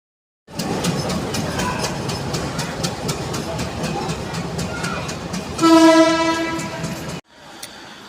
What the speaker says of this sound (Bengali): দুইটা ট্রেন পাশাপাশি দাঁড়িয়ে আছে।